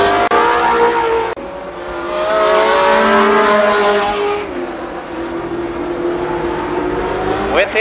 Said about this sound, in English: Begins to stretch it out over Simpson. One lap to go this time.